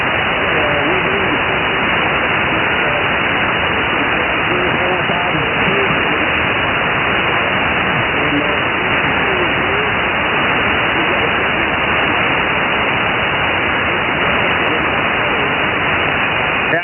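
A weak amateur radio signal on the 3.916 MHz band sits buried in dense, steady hiss and static, a faint voice barely rising through the noise throughout.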